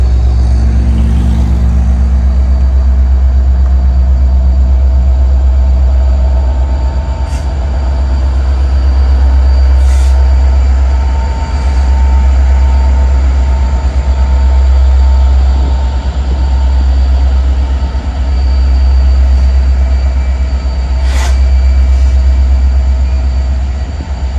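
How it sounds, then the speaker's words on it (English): A heritage locomotive rolls by on the Greenville District rail line, a loud continuous low rumble with recurring soft thumps as its wheels cross a track switch; no voices. "The unmistakable sound of train on switch confirmed my suspicions"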